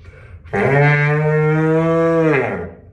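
Blowing into a trombone's inner slide with no mouthpiece gives one long, steady, cow-like moo with a low buzzing tone, held for about two seconds and heard up close without talk.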